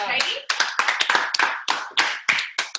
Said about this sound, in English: Let's clap it up for Katie.